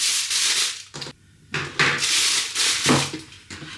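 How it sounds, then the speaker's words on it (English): Aluminium foil crinkling and rustling as it is pulled out and handled in a kitchen while resting a roast lamb shoulder, dense bursts of noise with a short pause, close and moderately loud. "The noise you're hearing in the background is, yep, I've got some foil out ready"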